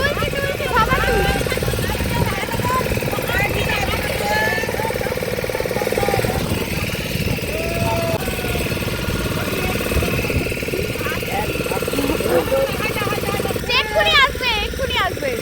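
A boat motor chugs steadily throughout while out on Chilika Lake, a continuous low engine drone with people talking over it and bird calls rising briefly near the end.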